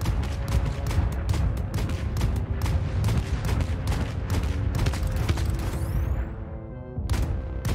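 Rapid sustained gunfire at an abandoned facility in the space game Void Crew, dense crackling bursts with heavy booms, loud and close, ending in a falling whistle and a final shot.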